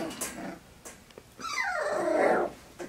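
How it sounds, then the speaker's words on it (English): Five-week-old Aussiedoodle puppies play fighting give off a close, rising growl and whine that swells for about a second, with a few yips and small scuffling noises before it. "they're finding their voices and playing and play fighting and a little bit of growling,"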